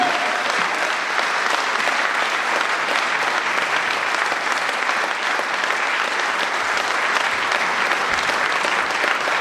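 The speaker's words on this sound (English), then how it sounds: "a round of applause for Mick Harford and Ed Asafu-Adjaye." Audience at a football club screening event breaks into sustained applause, dense clapping from many hands holding steady and loud for several seconds without pause.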